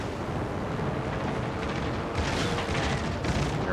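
Torpedo hits explode against the Richelieu battleship in a naval combat video game, a steady deep rumbling roar with heavier bursts swelling in the latter half, no voices over it.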